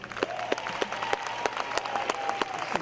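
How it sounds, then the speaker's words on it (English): Applause for student organizations at a university fall convocation, heard as a crowd clapping steadily with sharp individual claps over a continuous background, while a faint sustained tone runs beneath. "give yourselves a round of applause"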